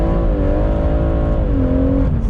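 A tuned 470 bhp BMW M140i engine revs loud and close, its pitch rising and dipping smoothly in one sustained run.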